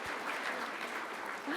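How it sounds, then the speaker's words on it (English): Audience applause after a talk on sleep and brain injury, a faint, steady wash of distant clapping that lasts the whole brief moment without any clear peaks. "Give him a round of applause, please"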